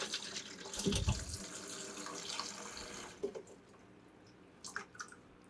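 Water gushes from an opened tap on a grow-tent water line, a steady soft hiss with a brief louder splash early on, then quieter trickling and a few faint clinks.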